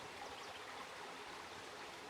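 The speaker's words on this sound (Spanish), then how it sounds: "me encanta este sonido del agua" A natural stream flows outdoors with a steady, even rush and gurgle of water, close and continuous with no voices.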